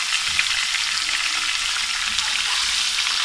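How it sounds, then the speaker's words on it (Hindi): Beef chunks frying in a pan with browned onion, garlic and ginger for nihari. A loud, dense, steady sizzle carries on throughout, close up, with no talking. "अब हम इसमें गोश्त शामिल कर देंगे ताकि गोश्त को भी हल्का सा हम फ्राई कर लेंगे।"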